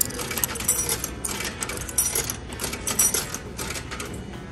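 Coins drop into a Japanese drink vending machine, a close run of metallic clinks, rattles and jingles over several seconds, some louder taps standing out against a busy mechanical background.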